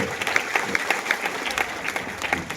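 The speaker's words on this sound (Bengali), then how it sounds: "এবার জোরে সবাই একটা হাততালি দিতে হবে, সবাই যারা বসে আছেন সবাই।" A seated audience at a school freshers' welcome comedy show claps together, giving dense, steady applause throughout with faint voices mixed in.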